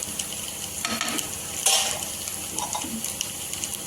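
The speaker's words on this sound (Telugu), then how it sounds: "దీంట్లో అయితే మనం 1 గ్లాసు వాటర్ పోస్తున్నాము." A glass of water goes into a hot pan of dried red chillies, producing a close, steady sizzling hiss with stirring scrapes and a couple of sharper splashy bursts.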